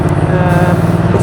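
A Ducati Diavel motorcycle fitted with a loud aftermarket exhaust pipe rumbles deep and steady at close range, a continuous throaty drone with no speech.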